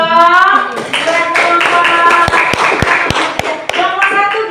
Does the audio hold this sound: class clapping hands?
yes